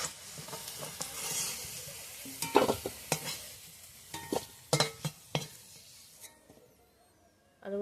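Potatoes frying in oil while being stirred in a pan for a crab curry, a steady sizzle broken by several sharp scrapes and knocks of a utensil against the pan, close by, with no talking.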